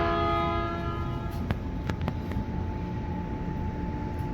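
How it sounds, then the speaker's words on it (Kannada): Local train passing a level crossing in Japan, a steady loud rumble of rolling cars with a high sustained tone and a few sharp clicks of wheels over rail joints. "ಬರ್ತಾ ಇರೋದು ಲೋಕಲ್ ಟ್ರೈನ್ ಅಂತ ಇದು, ಹಾಗಾಗ್ಬಿಟ್ಟು ಎಲ್ಲ ಕಡೆ ಸ್ಟಾಪ್ ಮಾಡ್ತಾ ಇದೆ."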